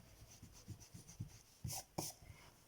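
Eraser rubbed across a board during a math lesson, a series of soft rhythmic scrubbing strokes that end in two louder, sharper swipes, quiet and close, with no talking.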